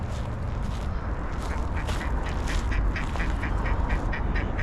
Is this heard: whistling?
no